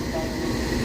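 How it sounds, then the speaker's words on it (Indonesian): Pasundan supplementary passenger train at Sidareja station, a steady low rumble of rolling rail cars with a faint high squeal, continuous and fairly loud. "Oke, kereta api Pasundan tambahan sudah tiba di stasiun Sidarja."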